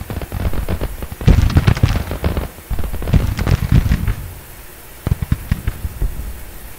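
Massed musket volleys crackle across a Civil War battlefield in Grand Tactician: The Civil War, bursts of rapid overlapping shots rising and fading in clustered waves, loud and sustained with brief lulls between.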